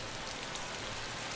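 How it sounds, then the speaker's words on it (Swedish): Rain in the video game DayZ falls on the ground in a dense, steady hiss that fills the whole moment with no other sound. "det regnar här inne också på marken"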